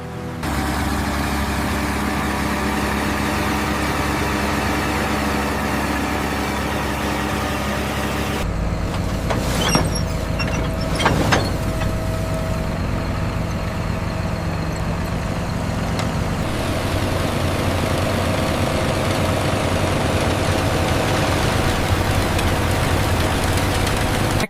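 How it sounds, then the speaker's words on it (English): A cotton harvester with rotating metal spindles picks cotton in the field, giving a loud, steady engine drone throughout, with a shift in tone partway and a few brief clattering bursts. "Rotating metal spindles continuously spin, wrapping the white fibers and pulling them cleanly from the plant."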